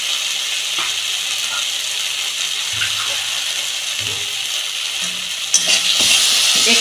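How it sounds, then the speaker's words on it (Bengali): Bitter gourd and bori, sprinkled with sugar and pepper, fry and are stirred in a pan. A steady close sizzle runs under occasional scraping strokes and grows louder and hissier near the end. "একটু নেড়ে চেড়ে"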